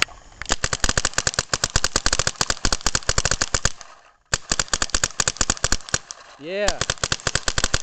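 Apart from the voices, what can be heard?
paintball gun firing shots by compressed air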